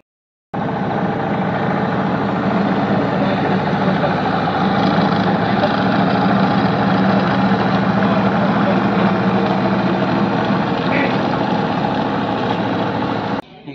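A large diesel generator drones loud and steady on a film shoot set, an unbroken low rumble that starts abruptly and holds constant throughout.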